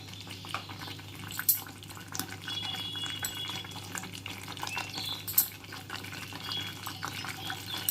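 Coconut barfi mixture with ghee is stirred in a hot pan, giving a steady, close, soft wet scraping and bubbling that runs throughout with no talking.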